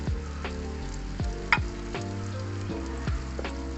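Soy sauce, MSG, brown sugar and salt sizzle in a pan while being mixed, with a constant frying hiss broken by several sharp spoon taps and scrapes, close with no talking.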